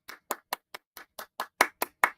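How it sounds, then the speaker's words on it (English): Sparse hand claps from a small group, about a dozen separate close claps in an uneven rhythm, loud and dry with nothing else around them. "let's give a round of applause"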